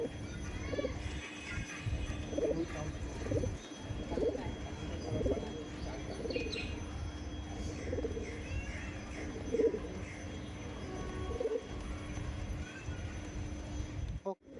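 Pigeons of a Madrasi breed coo softly in a steady, repeated rhythm at a loft, heard faintly over low background noise with occasional soft thumps.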